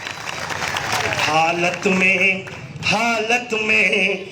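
A political rally audience in Surat, Gujarat claps in a steady wash of applause while a loud Hindi-speaking voice carries on over it.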